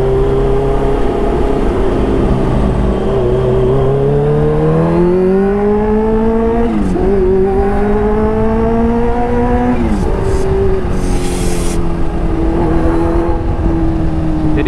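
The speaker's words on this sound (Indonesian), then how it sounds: "Di RPM 4000 ternyata gue baru ngeh bakal ada suara supercharge-nya beserta suara smart boost-nya juga." A supercharged Kawasaki H2 motorcycle engine roars steadily and loud, its pitch climbing and dropping through a couple of gear changes as it accelerates, with supercharger sound from around 4000 RPM and wind rush throughout.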